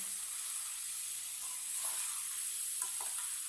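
Okra and egg cooking in a pan, a soft continuous sizzle and hiss with light stirring movements rising briefly midway, fairly quiet and steady.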